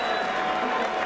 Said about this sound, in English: a round of applause for two warriors in the heavyweight division